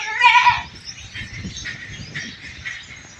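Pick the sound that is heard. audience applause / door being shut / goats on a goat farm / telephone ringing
goats on a goat farm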